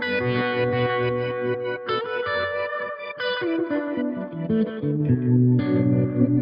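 Electric guitar played through two parallel effects loops giving different left and right effects, using a Two Notes Reload 2 load box, with chorused, echoing, distorted chords and melody that ring out continuously with no talking.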